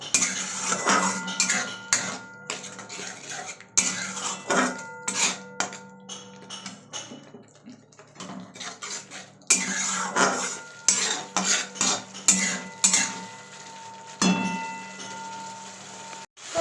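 Spices for a Bengali bhangar bata fish curry with chilli powder and a little sugar are stirred and fried in a pan, with steady spatula scraping and knocking on metal under a faint sizzle, close and continuous, with no talk.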